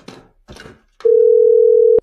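A telephone dial tone sounds as a call is redialled, a single steady held tone lasting about a second after a few short bursts of speech.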